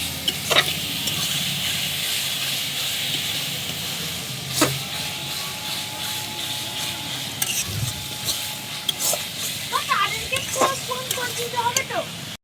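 Ginger, garlic and green chili paste frying in a pan for a chicken and potato curry, a continuous close sizzle with spatula scrapes and clinks, and a voice talking faintly at times.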